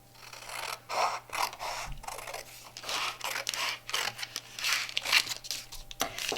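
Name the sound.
scissors cutting out a paper tree shape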